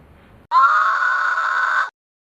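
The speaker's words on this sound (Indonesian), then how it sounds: "Ia menjerit keras sekali lagi." A woman's loud, sustained scream rings out for over a second after a quiet moment, used as a horror-story sound effect in a haunted boarding house tale.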